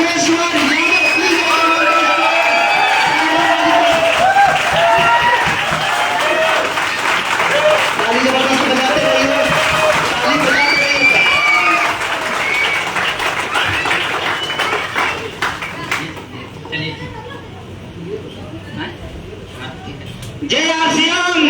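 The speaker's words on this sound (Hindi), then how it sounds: "शानदार तालियों के साथ, वोटिंग के साथ उनको इन्वाइट करने जा रहा हूँ।" Loud audience applause mixed with cheering and whoops at a business gathering, dense clapping and crowd noise with a voice over it, fading toward the end before a brief swell returns.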